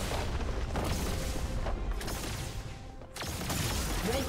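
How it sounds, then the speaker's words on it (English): A turret crumbles in a League of Legends match, a deep booming crash with crumbling debris that rolls on for several seconds, dips briefly, then swells again amid ongoing game effects. "Red team's turret has been destroyed."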